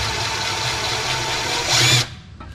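A power tool, likely a drill or impact driver, runs bolts up snug on a latch assembly for crew cab work, giving a steady close whir that rises briefly in pitch and strain before stopping near the end.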